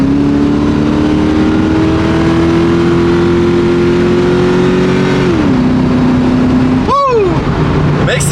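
A Ford Mustang drift car drives with a loud, steady engine note that holds, drops as it shifts, then surges sharply as it accelerates near the end, close and continuous.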